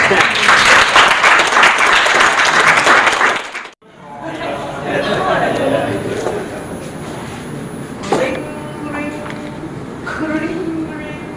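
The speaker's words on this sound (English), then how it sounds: "Give Crystal a round of applause, please." Audience applause for a volunteer at a sales training seminar, a loud dense burst of clapping that cuts off abruptly, followed by a room murmur with scattered voices.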